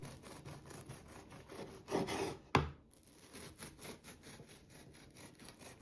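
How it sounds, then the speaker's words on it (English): A knife sawing through a soft, buttery loaf of pain de mie sandwich bread, with rhythmic rasping strokes close by, a louder stroke and thud as a slice comes free, then quieter cutting continuing. "Once it's cool, slice it up and enjoy."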